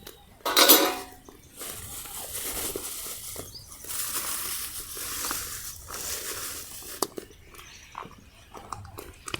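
A metal kadhai pan is set on a wood-fired chulha, a loud clanking knock followed by rustling, scraping and light clinks of cookware.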